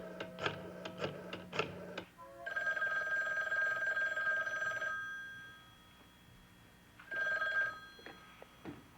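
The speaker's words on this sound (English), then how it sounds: "Before you go, I'll phone Matthew's cottage." Telephone rings after a call is placed to a cottage: two bursts of electronic ringing, each a steady trill lasting a couple of seconds, with a pause between, preceded by quick clicks of dialing.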